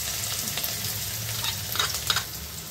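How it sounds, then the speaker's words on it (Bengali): Chopped onions sizzle and crackle in hot white oil with a steady frying hiss, brief bursts of popping, and a few stirring scrapes, close up and with no voices. "তেল গরম হয়ে গেছে, দিয়ে দেবো কেটে রাখা পেঁয়াজ।"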